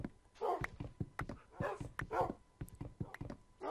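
Repeated short yips and barks from a dog in the Minecraft video game on Xbox 360, quick irregular bursts close up, with a few whimpering sounds between them.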